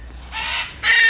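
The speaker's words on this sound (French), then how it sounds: "Une grosse gang de perroquets." Parrots in a large zoo aviary cage give two short, harsh, squawking calls in quick succession, loud and close.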